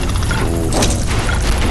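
A helicopter boss blowing apart in the Hills of Steel tank game, a loud, dense crash of explosive and mechanical game effects that stays busy and full through the whole short burst.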